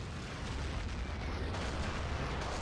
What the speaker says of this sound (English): Artillery coming in from Scandi looking for M.